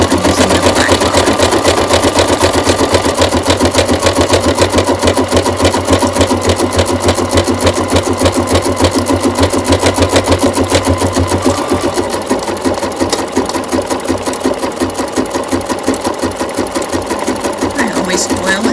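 An embroidery sewing machine stitches a bucket hat with a loud, rapid, steady mechanical rattle close by, easing slightly in pitch partway through.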